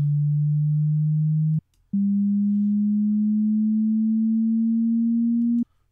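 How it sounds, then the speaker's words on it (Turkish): A steady pure sine tone holds low, cuts off briefly, then returns slightly higher and keeps creeping upward in pitch until it stops abruptly. "Gördüğünüz gibi hızlandıkça dalga boyu arttıkça daha doğrusu ses tizleşiyor."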